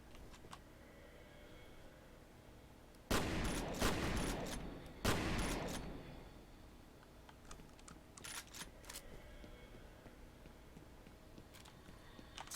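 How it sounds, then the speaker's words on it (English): Rapid-firing shotgun in the PC shooter F.E.A.R. (2005): two loud, dense blasts in quick succession followed by scattered clicks and rattles of game action over a steady low background hum, with no talking. "This is a rapid-firing shotgun."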